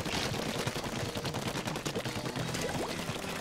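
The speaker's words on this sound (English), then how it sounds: "think of the splatter shot" The Splattershot ink gun fires in the Splatoon shooter game, a rapid continuous burst of wet, splattering shots with a fast, steady rhythm, close and loud against a busy game background.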